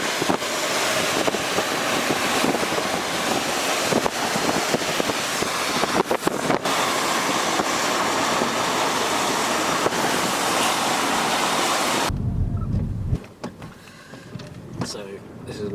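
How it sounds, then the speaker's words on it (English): Intense rain pours down in Worcester during a severe thunderstorm with a shelf cloud, a loud steady broadband wash that stays dense for about twelve seconds, then drops away into quieter patter with some wind buffeting. "intense rain."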